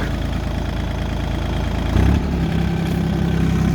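An Iseki TU197 tractor engine runs steadily at a low idle, then picks up revs with a louder, deeper throb partway through, heard alone and up close.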